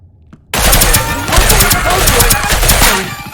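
Squire's second weapon in Deceive Inc. fires loudly and in quick bursts, starting abruptly after a short silence and continuing in a dense rattling stream to the end.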